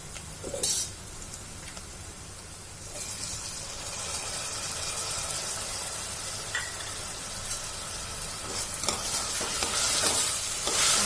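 Onion and tomato fry for chicken kolhapuri, a continuous close sizzle that grows slightly louder over time, with occasional spoon scrapes and a clink of the pan, and no talking.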